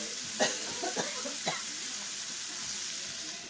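Steak fajitas sizzle steadily in a covered pan, a soft continuous frying hiss with a few brief clinks or stirring knocks near the start, moderately quiet and with no talking.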